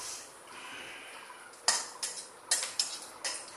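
Whole cloves and cardamom pods crackle in hot mustard oil. Sharp, scattered pops and clicks come after a quiet moment, close up, with no talking.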